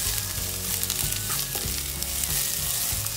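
Tomatoes sizzle in a pasta pan with broccoli and mushrooms, a continuous close frying hiss broken by intermittent stirring knocks and scrapes, with no talking.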